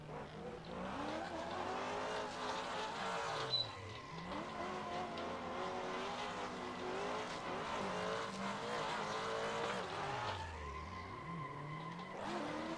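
Race cars drifting in the Assetto Corsa video game, with loud, sustained tire squeals that rise and fall over a droning engine. One long slide follows another across the whole stretch, with no speech.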